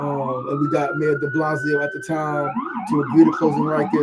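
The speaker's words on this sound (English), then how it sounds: "So pardon the sirens if you hear it in your background." Emergency vehicle sirens wail in the street outside, a rising tone followed by rapid yelping sweeps, heard clearly behind someone talking.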